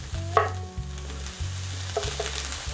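Vegetables sauté in oil in a pan over medium heat, giving a steady sizzle with a few stirring clatters. A low, repeating hum runs underneath throughout.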